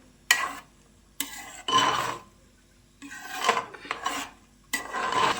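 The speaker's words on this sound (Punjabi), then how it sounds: "ਇਸ ਤਰੀਕੇ ਨਾਲ ਕੜਛੀ ਨਾਲ ਹਿਲਾਉਂਦੇ ਰਵਾਂਗੇ ਦੁੱਧ ਪਾਉਣ ਤੋਂ ਬਾਅਦ" A ladle scrapes and stirs carrot halwa after milk has been added to the pot, in repeated bursts of metallic rasping broken by short pauses, close and clear with no voices.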